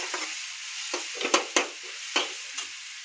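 Tomatoes cooking down in a hot pan, a close sizzle with repeated sharp stirring scrapes of a spoon at an uneven rhythm.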